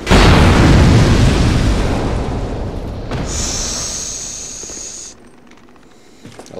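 A loud explosion in Dark Souls II: Scholar of the First Sin booms and rumbles, slowly fading over several seconds, then a thin high-pitched whine briefly rings out.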